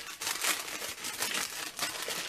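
Wrapped packages from a monthly artisan patisserie subscription box are pulled open with steady, close crinkling and rustling of paper, continuous and fairly soft with small surges.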